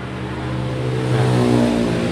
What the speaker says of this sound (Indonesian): ini karburator cleanernya motornya kita nyalain terus kita gas-gas ya